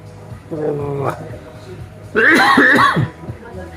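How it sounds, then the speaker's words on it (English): A close, harsh cough rings out twice, the second burst louder and longer, with quiet room tone between. "I come back from Manila and I've got this bloody cough."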